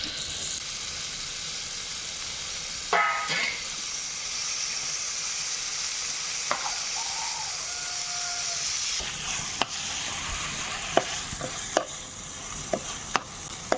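Fresh spinach hits hot oil with garlic chili and fries in a steady crackling sizzle, close and continuous, broken by a few sharp clicks and stirring knocks.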